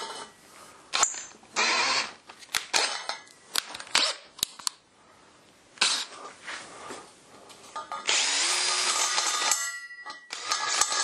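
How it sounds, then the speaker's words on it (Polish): Cordless drill driver running in short bursts while screws are driven into a DIY woodworking press, with clicks and knocks between the bursts, close by and fairly quiet. "szukam wkrętarki i poprawiam wszystko jak leci"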